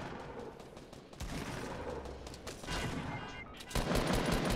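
Video game gunfire, steady dense bursts of automatic shots that swell louder in the final second.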